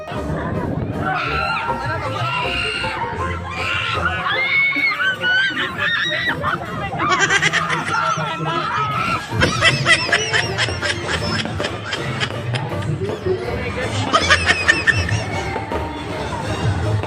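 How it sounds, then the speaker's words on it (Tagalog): Loud crowd of riders screaming and shrieking on a Viking swinging-boat ride at a festival, rising in repeated waves of shrill yells with laughter and chatter mixed in. "At tingnan nyo nga dito ang lalakas ng mga sigaw namin."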